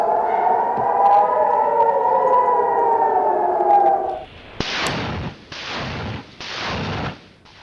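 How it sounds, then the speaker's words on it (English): Air raid sirens sound in Israel while tanks and troops mobilize outside Gaza, a steady wailing tone for about four seconds before it cuts to loud, bursting noise rumbles. "sirens sound as thousands of Israeli tanks and troops are mobilized outside Gaza right now."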